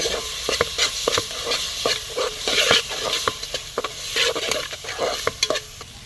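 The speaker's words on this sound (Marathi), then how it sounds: "वाटण थोडंसं आपण तेलावर भाजून घेऊया" Ground masala paste roasting in oil in a pan for a vegetable dish, with a loud close sizzle and frequent scraping stir strokes throughout.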